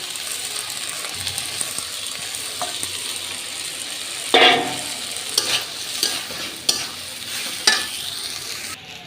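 A pan of fish curry with potato and eggplant sautés with a steady low sizzle, broken by several sharper scraping stirs of a spatula near the end; no one speaks.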